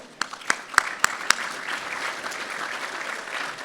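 Sustained audience applause at an awards ceremony for university administrators, a dense bed of clapping with a handful of crisp, prominent claps near the start, then an even roar of hands that carries on to the end.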